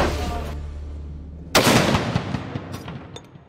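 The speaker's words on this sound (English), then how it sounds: "Rooks are awakened at 5:30 to the sound of cannon fire" Cannon fire for military college reveille at Norwich University: one sharp, loud boom that rolls into a long echoing decay, preceded by a low rumbling background.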